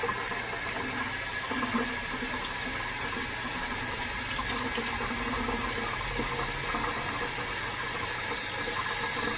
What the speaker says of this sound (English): So get ready to wash your hands.